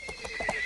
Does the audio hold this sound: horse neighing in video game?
yes